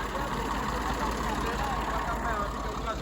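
Tractor engine running steadily at low speed, a continuous even rumble close by with no change in pitch, with people talking over it.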